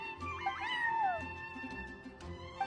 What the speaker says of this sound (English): I'm sorry, that's my neighbor's cat.